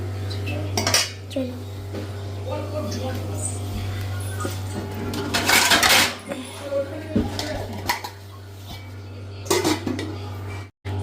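A cooking pot is handled and covered with a lid while spinach and paneer cook, giving close metallic clanks and clinks in scattered bursts, the loudest near the middle, over a steady low hum.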